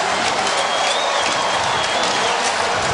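A stadium crowd in Cincinnati roars and applauds continuously after a Bengals overtime win, a dense, steady wash of cheering and clapping at full volume.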